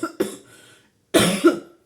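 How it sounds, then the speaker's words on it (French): Someone who is ill coughs twice, close and loud. Each cough is a short burst with a rough tail, separated by a brief silence. "Et je tousse comme ça."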